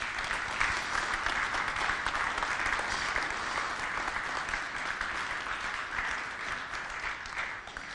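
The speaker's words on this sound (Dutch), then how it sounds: "Applaus." An audience at a municipal election debate in Oegstgeest claps steadily for about eight seconds, an even wash of many hands that holds at a constant level throughout.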